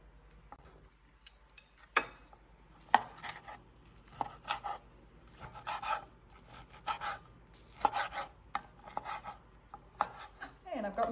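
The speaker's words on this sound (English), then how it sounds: "I'm just going to take some steak and I'm going to cut it" A knife slices through medium rare steak on a board, giving scattered soft cuts and taps with short rubbing strokes between them. The sounds are close and quiet, arrive irregularly and carry no talk.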